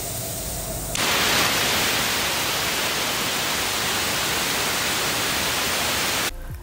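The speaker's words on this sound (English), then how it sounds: "a hissing sound, that is a loud BP dropping sound from the device" A loud, steady hiss of air escapes from a FIBA brake device on a train coach as brake pressure drops. It starts abruptly, holds for about five seconds and then cuts off.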